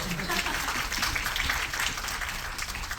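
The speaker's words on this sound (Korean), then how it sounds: "박수!" Audience applause at a stage greeting after an evening performance of the musical "종의 기원", a dense, steady wash of clapping filling the whole stretch at even loudness with no voices over it.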